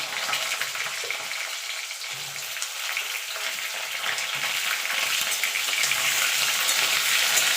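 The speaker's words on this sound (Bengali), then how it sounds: "আলু কুমড়োটা দিয়ে মিনিট খানেক একটুখানি নাড়াচাড়া করে নেব" Potato and pumpkin pieces stir-fried in a pan of hot oil, a dense steady sizzle that grows slightly louder, with soft stirring scrapes underneath, close and alone.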